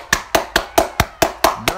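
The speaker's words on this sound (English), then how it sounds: "Clap your hands, everybody." Eight sharp claps land at an even, brisk pace in a Roblox bowling game, each a crisp slap close by and alone, with no talking.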